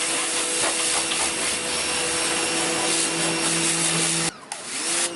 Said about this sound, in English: We're just gonna rinse it off quick.